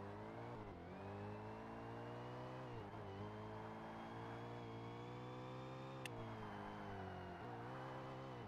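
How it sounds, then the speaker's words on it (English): A high-performance Class S race car in Forza Motorsport holds a steady, strong engine drone mid-race, with brief dips and rises as it shifts gears. The tone is continuous and there is no talk over it. "that's such a beautiful sounding engine"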